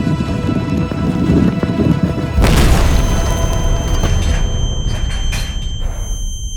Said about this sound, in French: Les gars, c'était vraiment une explosion!